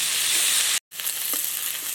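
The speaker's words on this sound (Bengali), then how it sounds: "আদা রসুন বাটা দিয়ে একটু নেড়ে চেড়ে ভেজে নিয়েছি" Ginger and garlic paste with onions sizzles steadily in a hot pan, a continuous bright frying hiss broken by one brief dropout.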